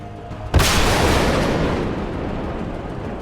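An artillery fire-mission strike lands in a tactical strategy video game: one sudden loud boom, followed by a long, rumbling roar that slowly fades, with no voices.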